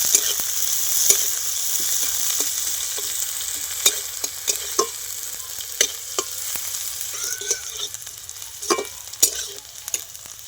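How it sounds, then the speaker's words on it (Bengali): Sliced onions fry in hot oil in a pan, cooked down until crisp, with a continuous bright sizzle broken by repeated sharp clicks and scrapes of stirring, and no voices. "পেঁয়াজটা এবার আমি পেরেস্তার মতন করে খুব সুন্দর করে আমি ভেজে নেব।"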